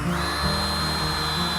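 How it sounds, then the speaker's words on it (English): A power drill with a roughly quarter-inch bit bores a tap hole into a maple tree, a steady high whine running continuously and fairly loud throughout, with no talking. "you need around a 1/4 inch drill and drill bit to get inside the tree"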